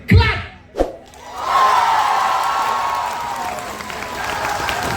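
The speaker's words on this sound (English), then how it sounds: "I would urge you to give them a clap" A concert crowd bursts into clapping and cheering after a short shout, a broad wash of applause with whoops that rises and sustains through the rest of the stretch.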